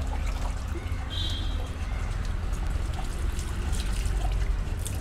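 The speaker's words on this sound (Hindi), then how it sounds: "अब इसे भाई पानी डाल लेते हैं" Warm water poured over a dog during a bath, a steady broadband splash and trickle running continuously and close up for the whole stretch, with no talking.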